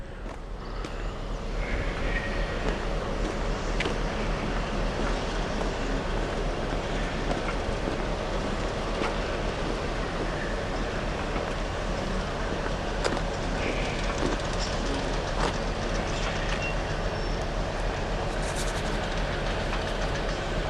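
A Class 60 freight locomotive and its train roll past at close range, a loud continuous rumble with clattering wagons and faint rhythmic wheel clicks that holds steady for twenty seconds.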